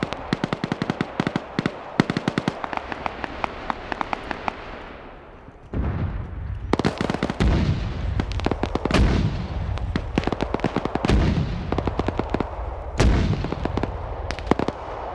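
Mortar rounds slam a position in a military war-training game, a long barrage of sharp explosions and cracking gunfire in irregular bursts, some close and booming, others distant, with rolling rumble in between and no speech.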